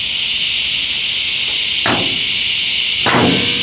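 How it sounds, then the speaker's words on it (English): Hood of a Mazda Miata being closed after a radiator support replacement, heard as two separate metallic thuds of the hood dropping onto its latch, close and fairly loud over a steady background hiss. "We're ready to close the hood and see if it closes all the way."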